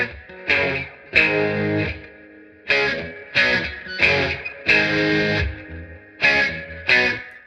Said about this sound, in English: I'm going to kind of crank the gain a little bit on the Silver Llama just to get a little bit of dirt.